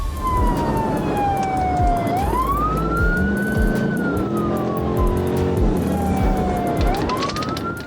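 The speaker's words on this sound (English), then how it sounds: "So, sirens back on, and the chase was on." A police car siren wails continuously close by during a chase, sweeping up and down in pitch over the rumble of a moving vehicle's engine.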